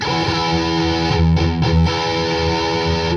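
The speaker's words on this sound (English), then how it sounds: "this is amp with no effects" Electric guitar played straight through an amp with no effects, a sustained loud, buzzing chord ringing steadily with a couple of brief choked dips midway, close and alone.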